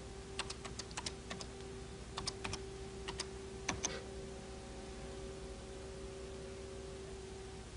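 A computer keyboard is typed on in short clustered bursts of clicks with pauses between, fairly faint and close over a steady electronic hum, with no talk.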